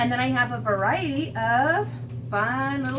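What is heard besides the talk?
No everyday noise stands out behind the speech.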